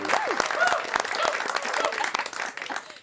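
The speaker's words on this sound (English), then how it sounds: "soak in that applause" A crowd applauds and cheers a winner at an annual cheese rolling competition in the UK, with sharp individual claps over continuous clapping and voices mixed in.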